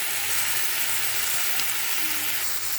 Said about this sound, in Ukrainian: Все разом перемішуємо і смажимо до готовності